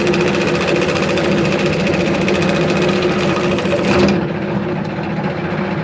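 A wood lathe spins steadily while a beginner turns a cup, giving a constant motor hum and vibration with a faint scraping texture, then a brief louder cut before the sound eases slightly.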